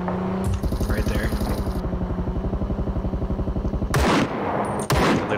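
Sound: gunfire in a video game

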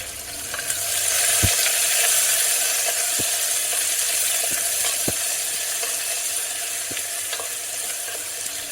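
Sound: chopped onion frying in oil with spices in a cooker

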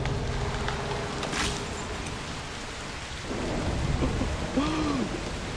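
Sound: thunderstorm with rain started in the video game Broken Pieces

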